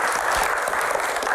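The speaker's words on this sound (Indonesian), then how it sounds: "tepuk tangan buat Mas Adi" Studio audience applauding as a male guest named Adi is welcomed onto an Indonesian talk show set, a steady wash of clapping filling the brief moment with no one speaking.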